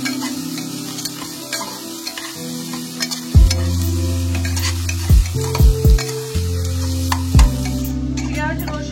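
Ginger, garlic and green chilli paste sizzles steadily in a hot pan for Bihari chicken, broken by several loud scraping stirs of a spoon against the pan.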